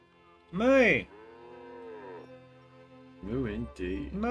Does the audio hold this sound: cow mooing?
yes